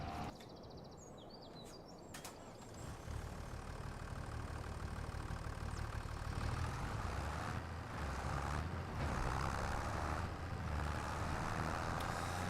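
Idling John Deere tractor engine in Farming Simulator 25, a steady low rumble that stays close and even, with no talk over it.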